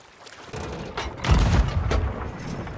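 Ship cannons fire in the pirate video game Sea of Thieves, giving a few deep booming blasts that swell mid-clip and fade, with no voices.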